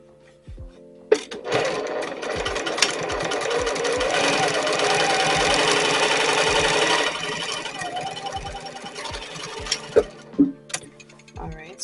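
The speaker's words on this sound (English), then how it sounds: "now I'm going to go ahead and top stitch to hold it in place." A sewing machine top stitches a dress-style towel topper, running in a steady mechanical whir for several seconds, with brief starts, stops and clicks of the mechanism before and after.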